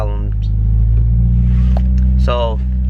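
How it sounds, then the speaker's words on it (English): A car with an aftermarket exhaust idles loudly, a deep steady rumble that swells slightly, with someone talking over it. "I can start my car up with no problems"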